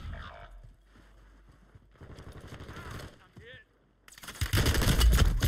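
Rapid bursts of automatic gunfire in the video game Warzone III, with quieter stretches of rattling shots before a loud, dense volley at the end, as players talk over it.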